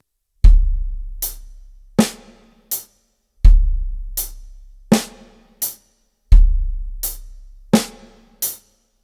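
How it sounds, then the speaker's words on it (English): A drum kit plays a sparse off-beat eighth-note groove three times over: deep kick thumps and sharp snare cracks with hi-hat strikes falling between them, clean and close. "This one's called the off beat, and it uses eighth notes"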